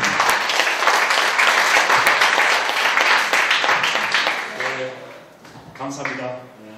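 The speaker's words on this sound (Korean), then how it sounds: "사무총장님을 박수로 모시겠습니다." An audience at a memorial book concert claps steadily in dense applause welcoming the foundation's secretary general, fading toward the end as a voice begins to speak.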